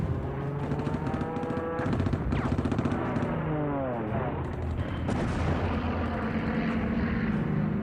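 Wartime archive sound of a German dive bomber attack on Allied ships and vehicles off Sicily: rapid machine-gun bursts and a diving aircraft whine with swooping engine pitch, loud and dense, over a narrator speaking Korean.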